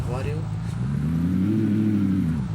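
Car engine revving steadily in a Minecraft car mod while the vehicle reverses, a continuous loud mid-pitched drone rising and falling over a few seconds.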